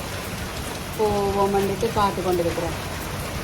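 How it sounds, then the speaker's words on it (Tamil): Rain falling in Colombo, Sri Lanka, a steady broadband hiss running throughout, with a person talking over it in the middle. "இங்கே கொழும்பில் மழை பெய்யுது."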